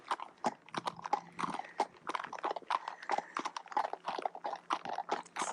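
A Standardbred horse walks on a road during a cool-out ride under saddle, its hooves clip-clopping in a steady, close, distinct rhythm throughout.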